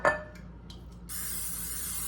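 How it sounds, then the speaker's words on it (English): Pam cooking spray hisses steadily from the can into a round dish for a green bean casserole, a close, continuous spray lasting about a second after a light clink of the dish. "I'm gonna go ahead and spray that with some Pam so my green beans don't stick."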